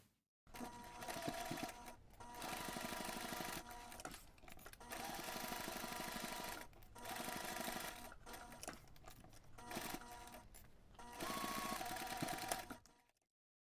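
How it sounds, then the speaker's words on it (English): Sewing machine basting a flap along three sides of an external coin pouch panel, running in several steady bursts of stitching separated by short pauses, close and clear with no talking. "you can take this to the machine and simply baste your flap to the external panel"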